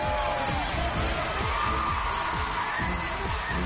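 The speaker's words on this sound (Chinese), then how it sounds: "祝贺的掌声再次送给李超" Studio audience at a Chinese Spring Festival television show breaking into sustained, dense applause and crowd cheering, loud and continuous throughout.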